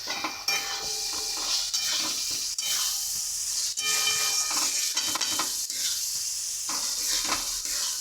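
Potatoes sautéing in a pan with salt, a continuous sizzle broken by clattering stirs and scrapes of a utensil against the metal, close and busy throughout.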